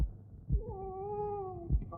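A single cat meows once, a clear drawn-out tonal call lasting about a second, close and fairly quiet over faint low background rumble, with no talk.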